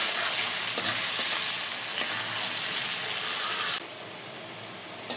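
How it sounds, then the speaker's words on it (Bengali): Chopped onion and garam masala sizzle steadily in hot oil for a chicken and bean-seed curry, a loud, dense frying hiss that eases slightly toward the end, with no voices. "পেঁয়াজ কুচা, গরম মশলা একসাথে ভাজলে একটা সুন্দর স্মেল আসবে"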